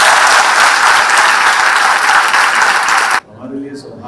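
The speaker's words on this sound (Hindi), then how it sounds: "जरा जोरदार ताली दोनों के लिए।" Loud, dense applause from an audience at an Indian government scholarship event, a sustained roar of clapping for about three seconds that cuts off abruptly, followed by someone speaking.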